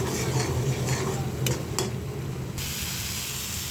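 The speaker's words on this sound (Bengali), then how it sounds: "মটরশুঁটি দিয়ে কষিয়ে নিচ্ছি" Spice paste with peas being stir-fried in a pan gives a steady hiss and sizzle close by, broken by a couple of sharp scraping stirs.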